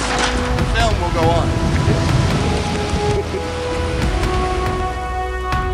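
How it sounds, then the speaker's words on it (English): Steady rain falling on a cold day, a constant close hiss of drops on surfaces with faint tonal hum behind it. "Cold rainy day."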